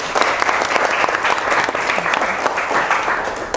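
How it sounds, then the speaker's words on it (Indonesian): Classroom applause for a student named Reno, a steady dense patter of many hands clapping at close range, continuous throughout with no talk over it. "tepuk tangan untuk Mas Reno ya"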